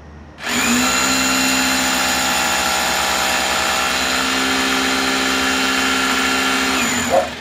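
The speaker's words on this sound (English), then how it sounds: "Now I'm taking a drill machine to make a hole." A power drill bores a hole into a used car tyre, giving a loud, steady whirring whine that starts abruptly and holds an even pitch for several seconds before cutting off.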